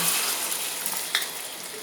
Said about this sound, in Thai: นี่เจียวไข่ ให้น้องกันกัน